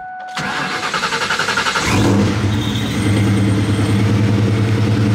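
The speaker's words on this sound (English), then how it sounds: "let's get a cold start going" A procharged 2V Mustang GT cold-starts with a sharp crank, then catches and settles into a loud, steady, lumpy idle close by.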